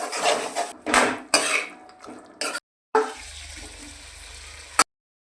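A spoon scrapes and clatters against a pot while a mixed vegetable bhaji with masala, coriander and onion-coconut paste is stirred, in several bursts of wet scraping and clinks separated by brief silences, ending with a low hum and a final knock.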